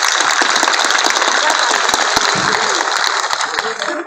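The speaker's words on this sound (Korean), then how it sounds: "박수로 환영해 주세요." A crowd at an outdoor memorial rally applauds to welcome guests, loud, close clapping with distinct individual claps over a dense wash, fading slightly at the end, with a voice briefly audible mid-clip.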